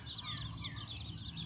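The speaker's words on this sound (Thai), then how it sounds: "in the morning feed mini chickies" A mother hen and her small chicks at morning feeding: soft, repeated clucks mixed with high chirping peeps, fairly quiet and steady.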